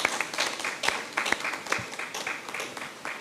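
Scattered clapping from a small group around a council meeting table, a fairly close patter of individual hand claps with an uneven rhythm that keeps going for a few seconds.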